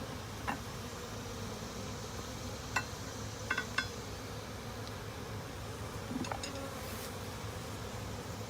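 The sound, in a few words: honeybees buzzing around an absconding hive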